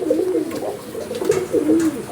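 A male Mechia pigeon from an old bloodline coos close by, giving several throaty, rolling coos in a loose rhythm against quiet background noise.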